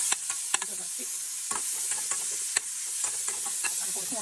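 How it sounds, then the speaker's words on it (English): Bacon frying in a pan on a home kitchen stove, a steady close sizzle with frequent sharp pops and crackles scattered across the whole stretch, no voices. "That's the bacon frying."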